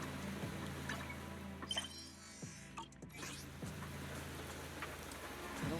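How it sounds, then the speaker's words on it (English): Rain falls in the video game Zenless Zone Zero, a steady soft patter and hiss of drops on surfaces with a few brief clicks and tones from the game mixed in. "Yeah, they really want to showcase the rain weather effects."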